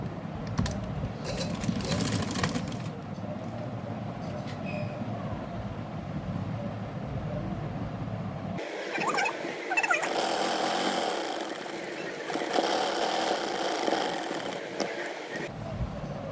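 A sewing machine stitching gharara and shirt dress pieces together, a steady, close mechanical whir running through the latter half after an earlier stretch of background sound.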